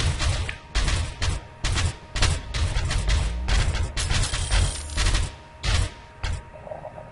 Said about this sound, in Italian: Qua iniziamo a sparare.